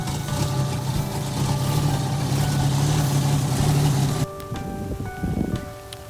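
A 1976 Toyota Land Cruiser FJ55 running roughly on bad gas after sitting for weeks, a steady close engine drone with low hum that drops off near the end, alone without speech.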